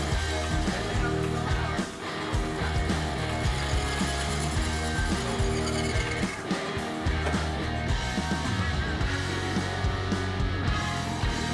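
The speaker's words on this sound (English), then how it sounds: "so that I could come in with the slitting saw to cut them in half" A slitting saw cuts through aluminium and brass workpieces on a machine for a cue holder, giving a steady, dense grinding and whirring that runs loud and unbroken for several seconds with only brief dips.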